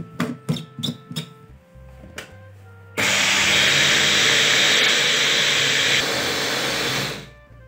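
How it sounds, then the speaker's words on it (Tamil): A kitchen mixer grinder blends pearl millet with a little water. A few knocks and taps come first, then the motor starts abruptly with a loud, harsh, steady roar that runs for about four seconds before winding down. "இப்ப நம்ம கம்மியா இருக்கிறதுனால நான் மிக்சிலே போட்டுக்கிறேன்"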